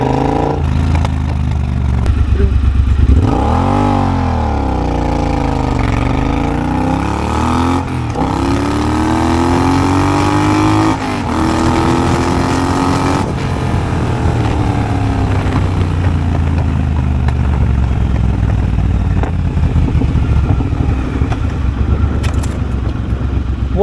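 A Triumph Bobber motorcycle with a decatted exhaust accelerates on open roads near Edinburgh, its engine note loud and close as it rises and falls through repeated revs over constant wind rush.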